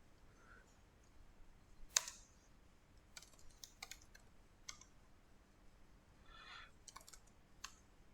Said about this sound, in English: just type configure.